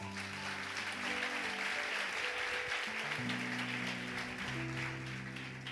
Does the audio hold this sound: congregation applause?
yes